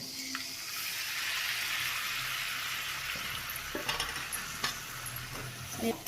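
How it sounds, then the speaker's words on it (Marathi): Cooked green mung beans tip into a hot pan with turmeric and are stirred, producing a steady hissing sizzle with scattered clinks and scrapes of the spoon near the end. "आता हे शिजवलेले मूग टाकून घेऊया"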